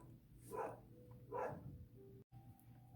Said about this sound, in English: My dog was going nuts.